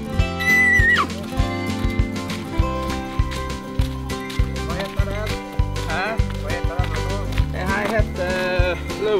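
A horse at Orkdal trotting park whinnies a few times, in wavering calls near the start and again later, over a loud rhythmic background with strong beats.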